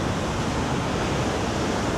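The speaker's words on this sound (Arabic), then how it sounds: "نسمع صوت الشلال." The Trümmelbach waterfall in Switzerland, fed by water rushing through caverns inside the mountain, gives a steady, dense roar that fills the whole moment without a break.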